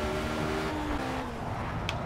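An Ariel Atom racing around the Nürburgring in Project Cars gives a steady, loud engine drone with a tonal whine that shifts pitch partway through, with no talk over it.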